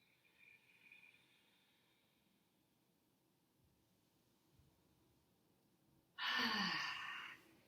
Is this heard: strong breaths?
yes